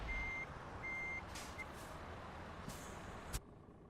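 A truck in Euro Truck Simulator 2 backs up with its reversing alarm, two even beeps and a short third one, followed by brief hissing air-brake bursts over a low idling engine, heard without talk.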